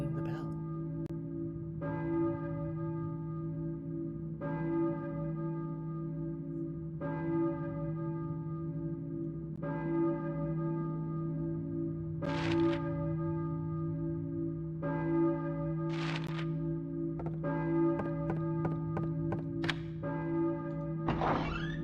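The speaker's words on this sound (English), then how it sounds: "I hear a church bell, baby. Who's ringing the bell?" A church bell tolls in Silent Hill 2, striking about every two and a half seconds with long ringing tails over a low steady ambient drone, with no talk.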